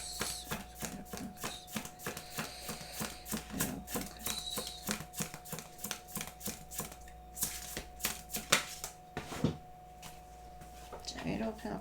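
Tarot cards being shuffled and handled to draw extra cards, heard as a steady run of soft papery clicks and flicks close to the microphone, with a voice talking over them throughout.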